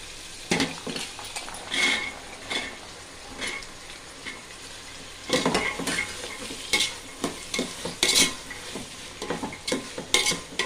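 Tomatoes and green peas frying and being stirred in a pan for rava kichadi, a soft continuous sizzle under repeated scraping strokes of a spoon against the pan, close and fairly quiet.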